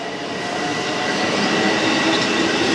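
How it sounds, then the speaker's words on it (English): A train at White Plains station, loud and close, with a continuous rolling rumble of rail cars and a faint metallic whine of wheels, steady throughout without talk. "just got off the train here in White Plains"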